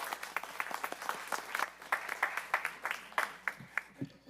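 Sparse, distinct hand claps from a few people at a school district board meeting, irregular and fairly close, thinning out toward the end.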